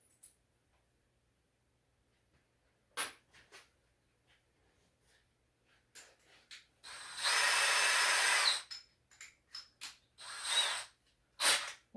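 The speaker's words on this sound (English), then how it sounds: "we're going to make some holes for the bulkhead fittings and hope I don't crack this jug" Power drill boring holes in a plastic jug for bulkhead fittings: short scattered bursts of drilling and handling noise, with one sustained loud whine of about a second and a half, close up in a quiet workshop.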